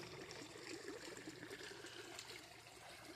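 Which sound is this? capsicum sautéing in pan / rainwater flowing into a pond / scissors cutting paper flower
rainwater flowing into a pond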